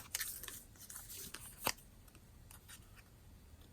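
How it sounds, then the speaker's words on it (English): Scissors snip through paper in a few faint, crisp cuts close by, separated by short quiet gaps. "Now we're going to snip that other with scissors, okay?"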